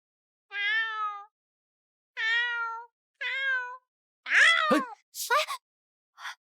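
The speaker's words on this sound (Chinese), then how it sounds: "这会儿四下无人，野猫又出来吓人" A stray cat in an imperial palace garden meows in a string of drawn-out cries, followed by shorter, harsher yowls, heard alone against silence.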